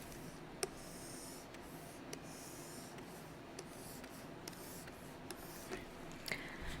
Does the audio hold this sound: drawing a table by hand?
yes